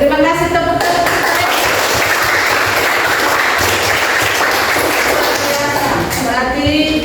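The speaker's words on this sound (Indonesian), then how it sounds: "Oke, terima kasih tepuk tangan." A classroom audience applauds during a teacher-training session, with a dense, steady wash of clapping lasting several seconds between stretches of a speaker's voice at the start and end.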